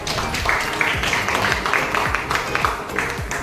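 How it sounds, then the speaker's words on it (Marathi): Audience clapping at a girls' drama workshop performance event, a steady dense patter of many hands filling the room with scattered louder claps, continuing throughout without speech. "त्यांच्यासाठी जोरदार टाळ्या झाल्या पाहिजे."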